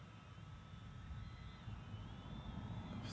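A DJI Avata drone flying outdoors in sport mode in winter at -2 degrees, giving a steady whine with a constant high motor tone over low rumble and wind noise, holding at an even level throughout.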